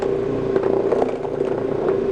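Orbot Vibe carpet cleaning machine with an encapsulation bonnet running steadily on carpet during wet and dry passes, giving a continuous close mechanical whir and hum with slight fluctuations and light clatter, no voices.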